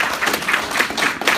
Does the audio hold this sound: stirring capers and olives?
no